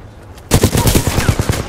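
Rapid shotgun gunfire in the Titanfall 2 campaign, a sudden loud burst of repeated blasts following a quiet moment, punchy and close, firing in quick succession.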